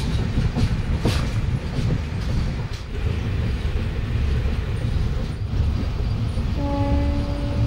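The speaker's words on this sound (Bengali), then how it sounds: "এখন ট্রেনটা লাইন চেঞ্জ করছে" A passenger train runs on the Panskura–Digha line, heard from on board: a loud, steady rumble of wheels on track with faint clicks, and a brief horn-like tone near the end.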